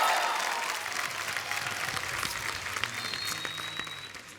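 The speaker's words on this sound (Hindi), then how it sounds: "जोरदार तालियां सिद्धांत और शर्वरी के लिए।" A television studio audience applauds and welcomes guests onto a comedy show stage. Dense, steady clapping from a crowd slowly fades, fairly soft overall.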